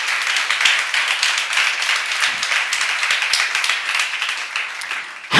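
A church congregation at a seminar claps steadily together, a dense, sustained wash of hand claps at even loudness for about five seconds with no talking.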